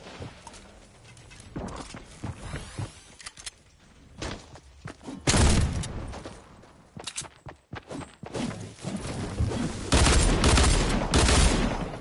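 Rapid bursts of gunfire crackle through an arena solos match in a shooter game, with scattered shots early, then heavier loud volleys and thuds building toward the end, mixed with footstep-like clatter.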